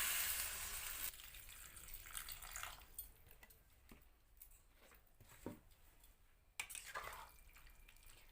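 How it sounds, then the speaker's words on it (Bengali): Water pours into a cooking pot of jackfruit curry, a short rushing splash that fades into quieter dripping and light bubbling, faint and close. "আরও কিছুটা জল দিয়ে দিচ্ছি।"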